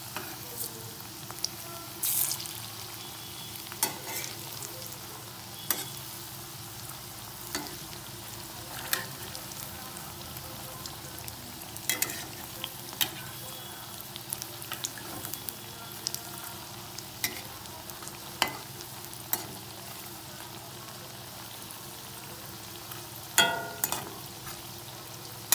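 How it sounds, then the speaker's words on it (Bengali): Lote fish chops frying in a pan over a low gas flame, a soft continuous sizzle with occasional sharp pops and crackles, faint and steady with no talk. "গ্যাসটা কিন্তু আমি লো ফ্লেমে দিয়ে ভেজে নেব"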